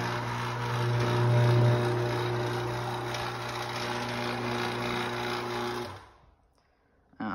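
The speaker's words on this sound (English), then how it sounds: "Yes, it is pretty loud and it does grind." An LDO50 linear actuator grinds loudly while it moves, a steady droning motor whine that cuts off abruptly near the end, leaving brief quiet.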